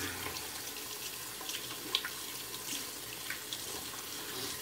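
Running tap water splashes steadily over hands being rinsed of shave balm at a sink, a soft continuous trickle with small splashy peaks, quiet and close with no talking.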